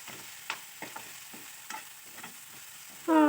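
Ingredients stirred and fried with turmeric in a pan for Assamese fish curry, with soft scraping strokes and a faint sizzle recurring unevenly, ending in a sudden louder tonal burst.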